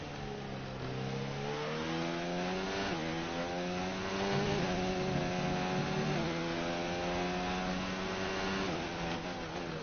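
A Formula 1 car engine in the racing game F1 2019 revs and shifts through gears in rising, high-pitched whines, loud and continuous with no talking over it.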